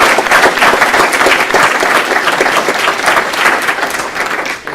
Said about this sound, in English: I'd like to give our board members a round of applause.